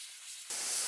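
Airbrush spraying transparent paint onto a concrete mould with the compressor at 30 psi and the valve fully open, a soft airy hiss that swells abruptly to a brighter, louder spray halfway through.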